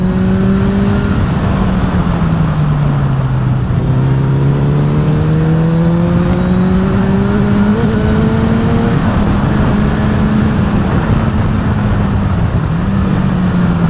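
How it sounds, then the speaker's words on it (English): A motorcycle scrubbing in new tyres accelerates and brakes repeatedly, its engine note rising and falling steadily under heavy, constant wind rush for the whole stretch. "and then accelerate when the bike stands upright, which is the safest way. A little bit of braking again, just to build heat"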